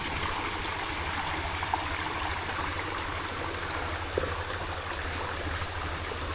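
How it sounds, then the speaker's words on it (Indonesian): A river or stream flows steadily along a jungle footpath, its continuous watery rush holding a moderate level throughout with no talk over it. "Dan ini sungainya teman-teman."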